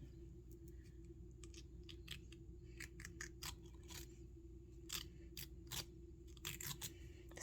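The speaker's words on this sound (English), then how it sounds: "I always just took the scissors and just kind of curl them a little bit." Scissors drawn along thin paper strips to curl them for craft antennas: a series of short, crisp scraping strokes, close and fairly quiet, in irregular bursts over a low steady hum, with no talking.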